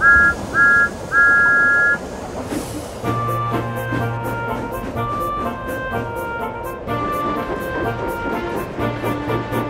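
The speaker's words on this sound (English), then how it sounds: "Once he was filled, Thomas whistled, setting off again." A steam tank engine gives three quick whistle toots, loud and close, before music takes over for the rest of the clip.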